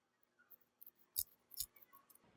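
A sheet of dried seaweed (kim) for gimbap is snipped, giving a few quiet, sharp crisp cuts and rustles close by in an otherwise quiet room.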